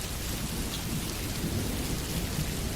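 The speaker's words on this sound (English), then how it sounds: "The rain showed no signs of stopping as the morning gently eased towards midday." Dense, steady rain pours down with a low rumble of thunder beneath, an even, enveloping wash of sound with no pauses and no voices.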